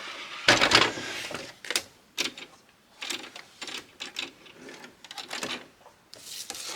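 A sewing machine stitches down a paper-and-fabric journal topper in several short, fairly close bursts of mechanical rattling with brief pauses between runs.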